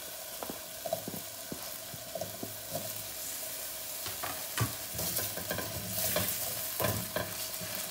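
Potatoes and green chillies frying in a pan, a moderate sizzle broken by repeated scraping and clinking of a spatula as they are stirred.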